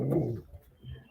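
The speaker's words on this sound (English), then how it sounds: "do you have to bark at the neighbor every time I walk by?" A pet dog barks at a neighbor: one loud close bark, followed by a softer huff after a short pause.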